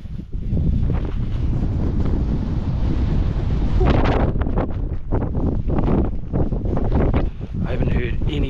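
Strong wind buffeting a microphone on an open hillside under low cloud, loud rumbling gusts that surge and ease, with heavier bursts in the middle and toward the end.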